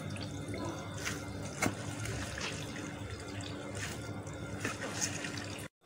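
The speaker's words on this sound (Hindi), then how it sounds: "और इसको मैं अच्छी तरह से निचोड़ लूँगी।" Water trickles and drips steadily as grated pumpkin is squeezed out by hand in a kitchen, a continuous wet splashing with a few louder drips, close and moderately quiet, no talking.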